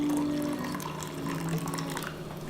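Boiling water poured from a kettle into a cup holding a double shot of cold brew coffee, a steady close liquid stream lasting a couple of seconds with a faint splash near the end.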